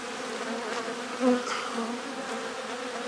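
Honeybees buzzing steadily near the hive as burr comb is scraped off, a dense close drone with a brief louder swell and light scraping touches, no talking.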